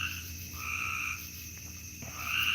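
Frogs croak in a natural nighttime chorus, a steady layered trilling that stays moderately loud throughout and holds no voices.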